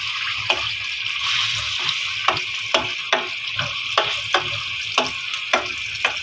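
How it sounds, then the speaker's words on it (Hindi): Eggplant bharta fries in garlic in a pan, a steady close sizzle broken by regular scraping stir strokes roughly every half second, with no voices. "तो इसकी अच्छी तरह से भुनाई करूंगी, तकरीबन आधे घंटे तक इसकी लहसुन में भुनाई करूंगी।"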